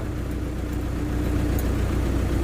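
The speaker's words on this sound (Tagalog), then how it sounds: "ilang cranking muna bago siya umandar" Running engine on a vehicle with hard-starting and low-power trouble, a steady near idle with a regular low throb and faint ticking. No distinct separate cranking bursts stand out before it settles.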